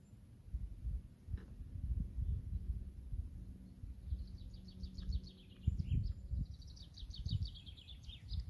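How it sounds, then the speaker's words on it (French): Morning birdsong by Lac du Salagou near Liausson: faint, distant chirping trills come and go over a low steady rumble of outdoor background noise, with no talking. "Vraiment le petit bruit des oiseaux le matin."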